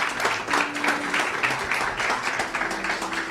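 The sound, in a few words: church congregation applause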